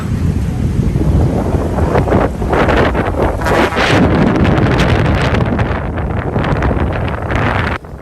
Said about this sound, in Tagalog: Sa kakusog sang hangin, ginpanglupad ang mga na-set up ng mga canopy tents.